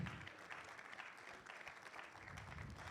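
Quiet, even applause from an audience welcoming a chairperson at a Ghana Statistical Service report launch, continuous clapping heard from a distance and at low volume for a few seconds.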